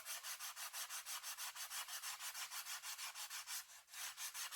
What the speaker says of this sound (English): This is why I like wet sanding.